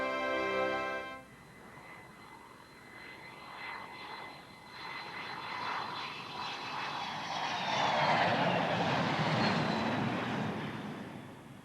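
A B-52H bomber, the first of the H models, takes off on its maiden flight. A loud, broad engine roar swells steadily for about ten seconds and peaks near the end, with a thin whine running through it and no voices.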